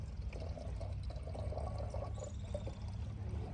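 Water pours steadily into glasses during a filling challenge, a continuous low splashing gurgle that runs without pause, moderately close, with no talk over it.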